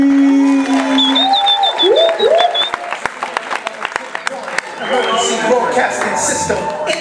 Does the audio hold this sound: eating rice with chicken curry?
no